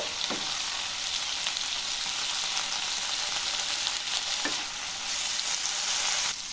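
Mint, coriander and curry leaves sautéing in a pan for thuvaiyal produce a steady, moderate sizzle, with a couple of soft stirring scrapes spaced a few seconds apart.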